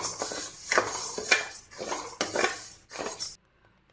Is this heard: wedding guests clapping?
no